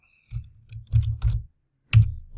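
A few brief bursts of keystrokes on a computer keyboard, close and fairly quiet, in irregular clusters separated by short pauses.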